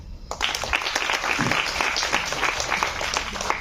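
Audience applause fills the room, a dense steady clapping from a crowd that starts abruptly and holds at an even loud level throughout.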